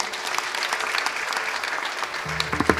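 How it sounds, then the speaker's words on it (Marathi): A kirtan audience breaks into dense, steady clapping close by, with a faint voice and a short musical tone near the end. "त्यांच्यासाठी जोरदार टाळी वाजवा"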